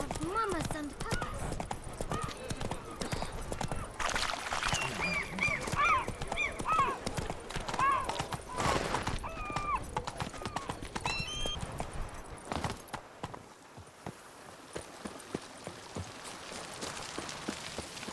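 A horse in The Witcher 3: Blood and Wine clip-clops at a steady walking rhythm and gives a whinny, with rain pattering behind and in-game voices talking over it.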